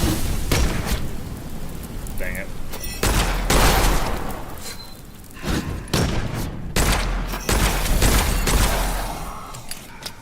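Hand cannon gunfire in the first-person video game Witchfire, a run of loud, sharp shots at uneven intervals with booming impacts and a rain-like background wash.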